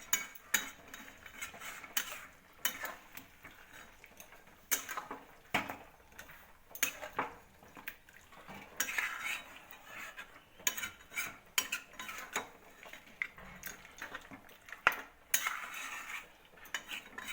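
A metal spoon stirs and scrapes chicken masala frying in a pan for Chicken Maharani, giving repeated close clanks and scrapes against the cookware over a low background, with no speech.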